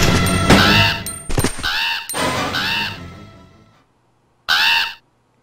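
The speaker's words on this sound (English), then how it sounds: "I still hear birds, but the music stopped." Crows caw in Resident Evil 2 on PlayStation, several loud harsh calls in a quick run, then a pause and one final caw.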